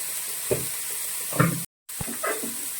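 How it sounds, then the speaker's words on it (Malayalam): Banana flower thoran stirred with ground coconut paste in a pan: a low sizzle with a few distinct scraping strokes, close, broken by a brief silence. "അരപ്പ് ചേർത്ത് നമ്മൾ നന്നായിട്ട് ഇളക്കി യോജിപ്പിച്ച ശേഷമാണ്"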